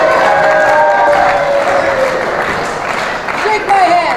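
Crowd at a women's championship wrestling match in Canada applauding and cheering steadily, with a dense wash of clapping and voices throughout, shouts and whistles rising near the end.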